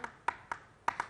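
A few sharp, separate handclaps in a studio after a song, five quick claps at an uneven pace, close and fairly quiet.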